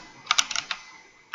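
A computer keyboard typed on while using the Trello project-management app: a quick cluster of close, crisp keystrokes, a short pause, then two more taps.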